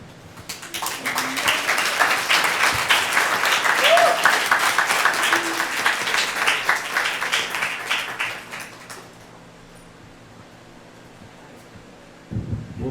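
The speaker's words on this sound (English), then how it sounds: "give one more round of applause" Audience applause at a gallery conversation event, a dense, steady wash of many hands clapping for about eight seconds before fading out, then a brief renewed burst near the end.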